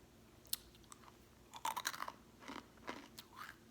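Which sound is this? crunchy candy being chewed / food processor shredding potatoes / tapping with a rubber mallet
crunchy candy being chewed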